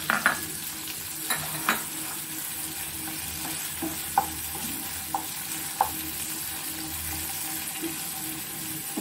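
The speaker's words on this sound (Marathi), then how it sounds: "आता मी त्यात घेतलेला एक छोटासा टोमॅटो टाकते।" Small tomato dropped into onions frying in a pan for soya chilli, giving a steady broadband sizzle with scattered sharp clicks and scraping stir strokes throughout, close and moderately loud, no voices.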